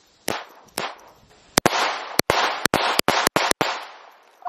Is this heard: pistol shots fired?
yes